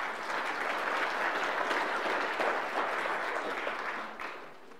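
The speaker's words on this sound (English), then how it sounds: "So maybe we could give just a round of applause thanking those who have served." A church congregation breaks into sustained applause, a dense steady wash of many hands clapping together for several seconds before tapering off slightly at the end.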